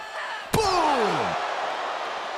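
An ambulance door at a live WWE wrestling event slams once with a sharp, loud metallic bang, followed by a falling ringing tone over a wash of arena crowd noise.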